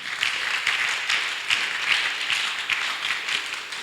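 A church congregation applauds to acclaim Jesus, a steady moderately distant wash of many hands clapping with no voices on top.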